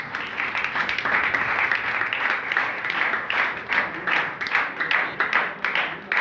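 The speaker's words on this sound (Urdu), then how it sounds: "آپ کی زوردار تالیوں" Church congregation at a Mother's Day service applauding steadily, a dense, loud wash of clapping from many hands that continues without a break.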